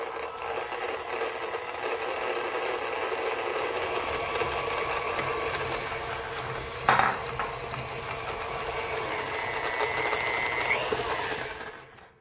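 Stand mixer creaming softened butter for classic sugar cookies as sugar is added gradually, a steady, even motor whir running throughout with a brief clatter partway and the hum dropping away at the end.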